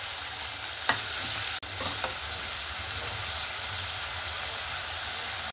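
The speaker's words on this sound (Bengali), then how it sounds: "আদা রসুনের পেস্ট দিয়ে করে ভালো করে আবার কষিয়ে নেব একটু।" Onion paste and ginger-garlic paste sauté in oil with a constant close sizzle, a few sharp stirring scrapes near the start and a brief cutout partway through, no talking.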